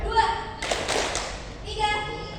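At a university seminar, an audience gives a single short, unified burst of clapping on cue, lasting under a second, with voices speaking before and after it.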